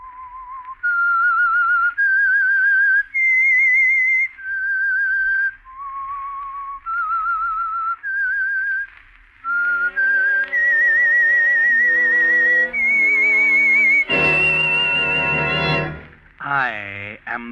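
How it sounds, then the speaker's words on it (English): A solo whistled melody, the theme of the radio show The Whistler, rises and falls in clear sustained notes, loud and close, and ends in a brassy orchestral swell. "That whistle is your signal for the Signal Oil Program,"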